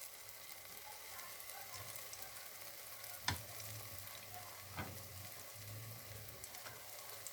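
Banana fritters made with chira and peanuts frying gently over low heat: a soft, steady sizzle of oil with a couple of sharp utensil knocks against the pan.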